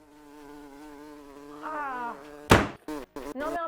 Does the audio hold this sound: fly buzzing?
yes